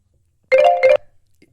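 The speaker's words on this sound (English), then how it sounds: "That was the alarm." An alarm sounds two short, close, tonal electronic bursts in quick succession, like a chime, then falls silent, with no talk over it.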